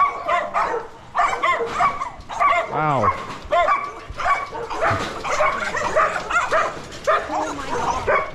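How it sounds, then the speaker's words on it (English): Many dogs bark and yip at a house in the Philippines, a noisy overlapping chorus of barks and whines that keeps going, with people talking briefly over it. "That is a lot of dogs."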